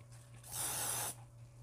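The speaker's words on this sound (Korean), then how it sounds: "단계별로 스프레이를 뿌려서 올라갈게요." A can of hairspray sprays onto a man's hair during volume styling, giving a single close, even hiss of about half a second between quiet stretches of room hum.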